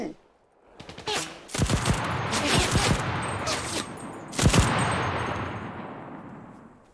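Rapid automatic gunfire in the video game Cuisine Royale, with dense bursts of sharp shots and a loud reverberant volley, while a player talks over it.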